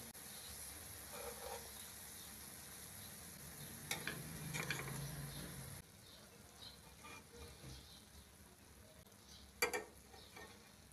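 Aloo tikki fry in a pan with a faint, soft sizzle throughout, broken by a few brief scraping and handling sounds.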